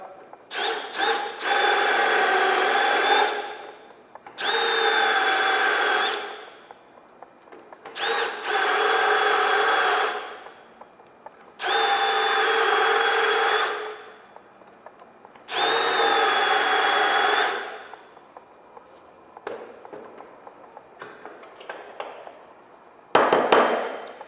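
A power drill bores deeper holes into an oil stone in five steady bursts of a few seconds each, a loud close high whine with grinding overtones separated by brief pauses, then scattered handling clicks and a final thump.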